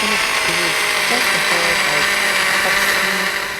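Blender pulsing soaked tiger nuts in water, a steady loud motor whir with shifting tones running throughout.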